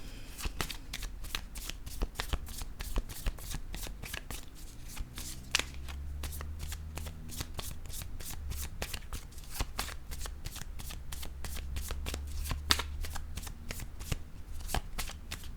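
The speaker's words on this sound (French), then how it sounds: "Je vais piger une autre carte." Playing cards are shuffled and drawn in a rapid run of crisp, riffling clicks and flicks close to the mic. A brief spoken word breaks in near the start, with faint low noise underneath.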